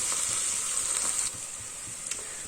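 Onions frying in oil over a high flame for egg biryani, a steady bright sizzle and crackle close up with faint stirring scrapes throughout.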